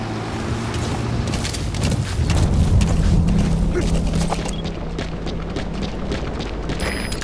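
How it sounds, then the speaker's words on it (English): An enemy gunship in the video game Metal Gear Solid V gives a heavy, steady roar with deep rumbling and wind-like rushing, close and loud, with a voice speaking faintly underneath. "That's an enemy gunship."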